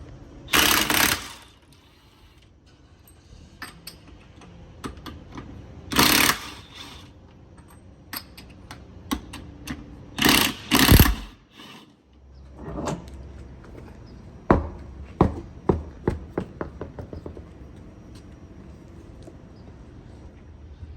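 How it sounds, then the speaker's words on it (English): Metallic clanks, ratcheting clicks and rattling as a keyed lug nut wrench works the spare tire off the rear of a Jeep Wrangler JL, scattered bursts near the mic with quiet gaps, closing in a run of quick clicks. "we're going to take this spare tire off the back"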